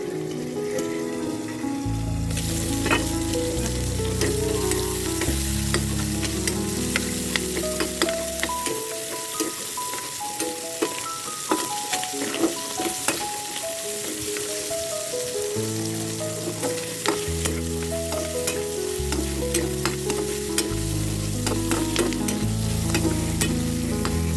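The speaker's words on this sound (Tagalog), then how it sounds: "Takpan muna natin guys para maluto yung luya, sibuyas, saka bawang." Ginger, onion and garlic sauté in a covered pan for ginataang puso ng saging, a steady sizzle with scattered crackles running under loud background music.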